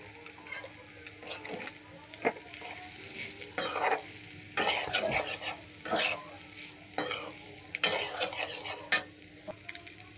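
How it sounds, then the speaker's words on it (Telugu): Paneer pieces with garam masala are stirred in a pan, giving intermittent scraping bursts of a spoon against metal over a faint, low sizzle. "పన్నీర్ ముక్కలు ఇరిగిపోకుండా అయితే కలుపుకోవాలండి"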